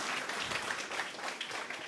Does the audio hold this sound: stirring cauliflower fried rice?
no